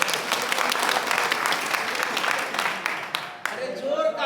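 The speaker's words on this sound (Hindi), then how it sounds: "जोरदार तालियां दोस्तों।" Loud audience applause at a live gathering, dense continuous clapping from a crowd that swells and then briefly dips near the end, with voices faintly mixed in.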